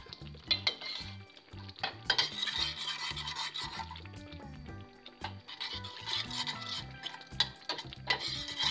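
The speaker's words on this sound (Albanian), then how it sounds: "Speci u skuq plotësisht e largojmë nga zjarri." Sweet red paprika frying in melted butter until fully toasted, heard as a soft sizzle under steady, close scraping and rubbing strokes of a spoon against the pan.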